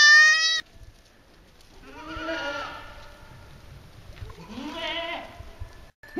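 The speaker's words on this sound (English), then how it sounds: "Aw, little tiny goat." A small goat in a herd near Petra gives two drawn-out, wavering bleats a couple of seconds apart, fairly close, following a brief sharper animal call at the start, with quiet shuffling and no talk.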